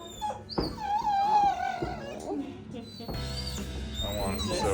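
A shelter dog whimpering and whining in long, wavering high moans, close by, with people talking softly over and around the cries.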